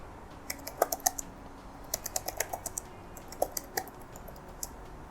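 Someone types on a computer keyboard while coding, nearby and quiet, in short irregular bursts of crisp key clicks separated by pauses.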